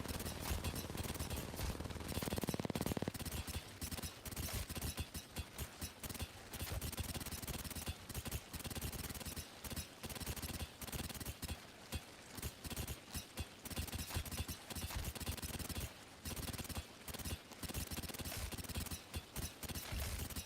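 Rapid continuous gunfire from an R5Reloaded aim trainer, dense bursts of shots repeating steadily with brief gaps, loud and close for the whole stretch.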